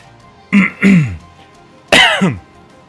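A man coughs and clears his throat close by, two quick hacks followed after a pause by two more, rough and loud.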